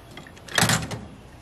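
A drawer on a service truck slides with a short burst of rattling and scraping at close range, lasting under half a second, with no talking.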